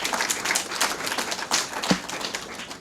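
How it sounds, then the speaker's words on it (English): Scattered audience clapping at a government agreement signing ceremony in Saint Lucia: sparse, uneven hand claps of moderate loudness, rising and thinning over a few seconds. "A round of applause for Stephenson King."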